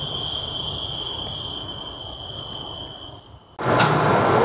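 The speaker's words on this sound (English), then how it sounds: "It's like a constant ringing bell. Can you hear it in the background?" Steady, high-pitched insect chirring in the Singapore Botanic Gardens rings like a constant bell for several seconds, then cuts off abruptly into a louder rush of noise.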